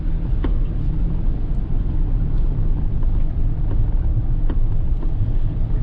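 A 2021 Force Gurkha 4x4 in four-high first gear crawls over a broken, rough dirt track near Mysore, Karnataka, its engine a steady low rumble mixed with wind buffeting and occasional knocks from the uneven surface.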